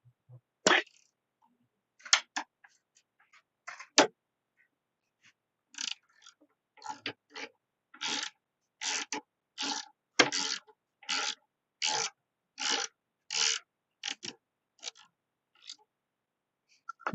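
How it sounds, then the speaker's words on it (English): Ratchet or wrench loosening brake caliper bolts on a Suzuki GSXR600 motorcycle, a series of sharp rasping clicks in a steady rhythm, close and fairly loud, with no talk. "First step is to remove the brake caliper."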